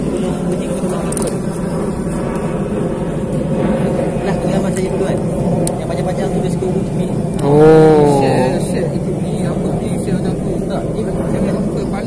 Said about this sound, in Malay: Kebetulan kapal terbang lalu atas.